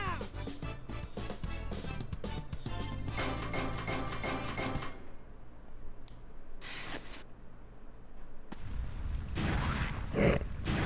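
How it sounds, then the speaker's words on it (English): An explosion goes off in the Sonic Adventure video game, a loud booming burst cutting through busy game music, followed by a noisy crackling tail and further sharp bangs. "I will never get tired of the explosion."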